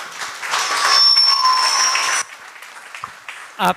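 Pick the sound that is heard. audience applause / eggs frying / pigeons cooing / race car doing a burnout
audience applause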